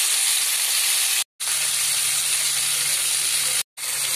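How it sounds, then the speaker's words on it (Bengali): Salted, turmeric-rubbed snakehead fish frying in hot oil, a loud, steady broadband sizzle that runs continuously with two brief cuts to silence. "এবার আমি মাছগুলো ভেজে নেব।"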